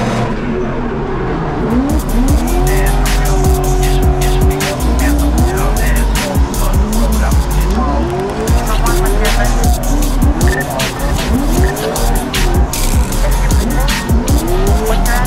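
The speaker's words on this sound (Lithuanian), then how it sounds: "Koks čia motoriukas? Merso 5 litris V8 su kompresoriu." A supercharged 5-litre Mercedes V8 car of about 500 horsepower drifts, its engine roaring and revving steadily while the tires squeal in long, loud, continuous screeches throughout.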